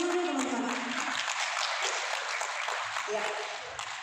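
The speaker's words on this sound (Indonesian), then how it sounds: "Tepuk tangan dulu teman-teman." Clapping from an audience at a financial management briefing, broad and steady, with voices murmuring and talking over it near the start and end.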